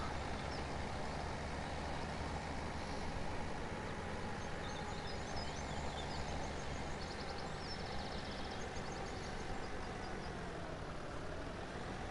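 Tractor engine in a farming video game, struggling slightly while hauling a loaded trailer around an estate, with a steady, loud low drone and faint mechanical clatter throughout, no voices over it.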